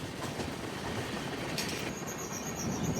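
A superfast express train slows on approach to Gudur junction, its wheels letting out a high thin squeal over a dense, steady rumble of rolling carriages heard from inside.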